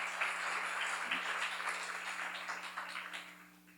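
A church seminar congregation claps together, a fairly quiet, even patter of many hands over a constant electrical hum that fades toward the end.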